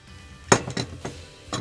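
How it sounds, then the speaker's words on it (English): Metal clamp being loosened and taken off a block of carving wood, giving a few separate knocks and clinks spaced over a second and a half, fairly close and clear, with no talking. "I will just have to take off this clamp so that I can mark up the wood"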